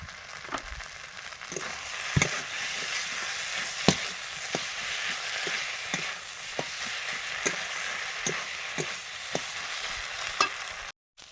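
Spices sizzle steadily with turmeric and chopped tomato in a hot pan while cooking a meat curry. A spoon scrapes and taps against the pan in irregular clicks under the continuous frying hiss.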